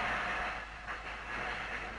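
A tram rattles along its rails in a steady, broad rumble with a hissing, rushing wash over it, continuous and fairly close for a couple of seconds with no voices.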